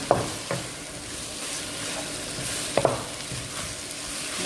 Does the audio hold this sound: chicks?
no